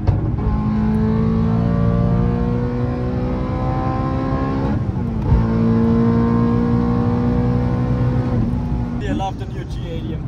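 Two 700 HP BMW E9X M3s on the Autobahn give a loud, steady engine and exhaust drone at sustained speed, rising in pitch through the gears with a brief dip at a shift midway, heard close and continuous throughout.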